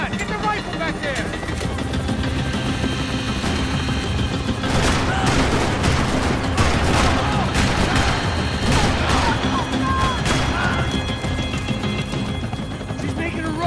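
Sustained rifle gunfire and bursts from the video game Max Payne 3, loud and continuous with booming impacts and a helicopter-like drone, while voices shout over the combat.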